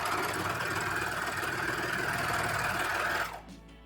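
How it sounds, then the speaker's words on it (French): A Juki MCS-1800 coverstitch machine runs at a steady, fast, close-up stitching whir for about three seconds, then stops abruptly and leaves quiet room tone. "enfin me servir de ma recouvreuse"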